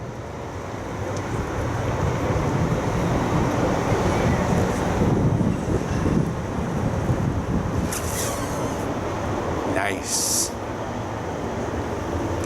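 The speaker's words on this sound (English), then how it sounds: "got a sexy ass new tram coming through" A new tram rolls past outdoors with a broad, steady rumble and rushing hiss that swells and fades over several seconds, with wind buffeting the microphone and a brief spoken word near the end.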